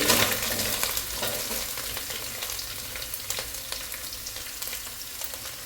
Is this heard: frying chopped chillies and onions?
yes